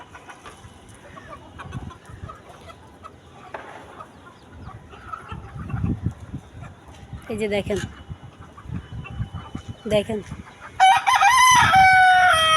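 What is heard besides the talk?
native deshi chickens clucking, rooster crowing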